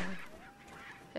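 A single chicken clucks in the survival horror game Resident Evil 4, one short nasal squawk fading out, faint, with a quick sound at the end.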